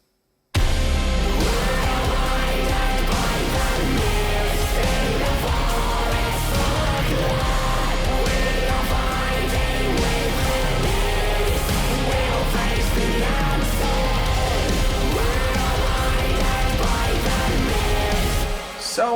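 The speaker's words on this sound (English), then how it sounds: "The second part with fast drums and double bass." A dense metal chorus played by a full band, with fast drums and relentless double-bass kick under distorted guitars, loud and unbroken until it cuts off at the end.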